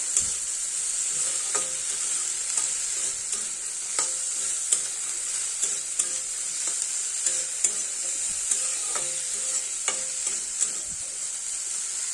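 Potatoes and chopped garlic sizzle steadily in hot oil while a utensil scrapes and stirs through them, with repeated light clicks against the pan over a constant frying hiss; no voices.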